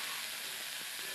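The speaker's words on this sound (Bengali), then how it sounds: "এখন কেটে রাখা বাঁধাকপিটা দিয়ে দিলাম" Cut cabbage goes into a pan of frying onions with cumin, cardamom, cinnamon and bay leaf, a brief, fairly quiet steady sizzle with no talk.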